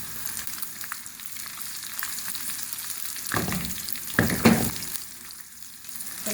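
Steady frying sizzle of cumin, Kashmiri red chillies and browned onion in hot oil for a chana dal tarka, with a couple of louder bursts as more goes into the pan; no talking.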